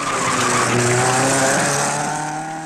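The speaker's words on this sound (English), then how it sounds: "There's Torres in his Porsche. And here's his main rival, Consten, in an Alpha" Rally cars, a Porsche and an Alfa Romeo, race over an Alpine mountain pass during the 1958 Coupe des Alpes, engines roaring loud and close with rising and falling revs and a tire squeal, no talk.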